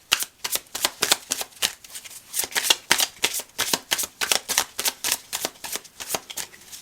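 A deck of tarot cards is shuffled steadily for several seconds, the crisp riffling strokes coming in a quick, even rhythm, close and fairly loud with no voice over them.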